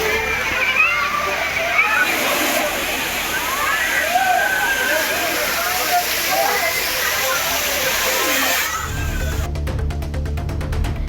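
A waterfall pours steadily onto a long line of bathers, its constant rushing wash mixed with faint splashes while someone talks over it, before the sound cuts abruptly near the end.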